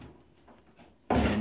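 A furnace access door is pulled off with a sudden loud scraping clatter of sheet metal after a quiet stretch, close by and ongoing at the end.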